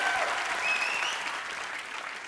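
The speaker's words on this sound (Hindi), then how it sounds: "जोरदार तालियां यार" Loud applause from a studio audience at a comedy talk show taping, a dense steady wash of clapping that holds strong throughout and eases slightly toward the end.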